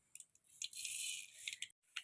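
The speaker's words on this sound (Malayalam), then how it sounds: "ഇപ്പോൾ കടുക് പൊട്ടിയിട്ടുണ്ട്." Mustard seeds popping in hot oil for a Kerala-style fish curry, heard as a quiet crackle of small pops and a brief hissing spatter, fairly close, with no talking.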